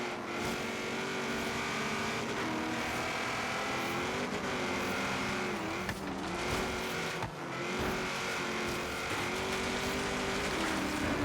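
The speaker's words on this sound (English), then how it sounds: "Get that little bit of wheel spin to get us going" A BAC Mono race car in the Forza Horizon 3 game accelerates hard with a bit of wheel spin, its engine droning loud and steady as it revs up through the gears, with no talking.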